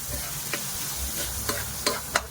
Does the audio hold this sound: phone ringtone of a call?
no